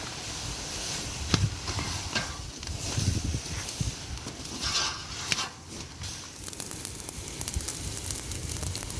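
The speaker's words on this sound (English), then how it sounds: "So that looks more like candy boiling than water." A pan of maple sap boiling down toward syrup fills the air with a steady close bubbling, sizzling hiss and irregular pops, with no talk.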